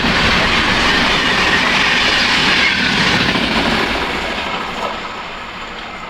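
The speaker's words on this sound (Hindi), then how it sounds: "मेवाड़ एक्सप्रेस आ रही है अपनी रफ्तार में, अपनी स्पीड में।" The 12963 Hazrat Nizamuddin–Udaipur City Mewar Express rushes at speed through Malarna railway station, a loud, continuous roar with rattling wheels that stays close before easing slightly as it passes.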